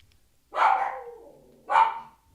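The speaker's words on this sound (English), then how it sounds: "My dog is going off." A dog barks twice in a near room, two loud bursts about a second apart, with nothing else in the background.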